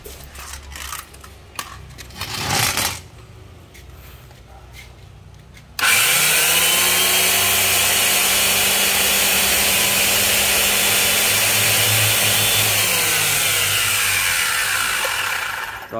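A Makita two-blade router is switched on for a test run, its motor starting abruptly and then holding a loud, steady high-pitched whine for about ten seconds before easing off, after some earlier clattering handling noises.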